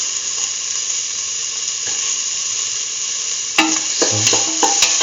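Ginger sizzles steadily in a hot pan for a kitchen chayote and kidney bean stew, a constant bright frying hiss, then near the end a spoon scrapes and clacks against the pan in quick stirring strokes.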